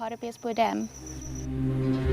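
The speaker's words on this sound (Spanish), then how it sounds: "Nubes de saltamontes sobrevuelan los lirios acuáticos." Grasshoppers swarm over water hyacinths on a South African reservoir at dusk, giving a thin, steady high-pitched buzz that follows a brief stretch of talking.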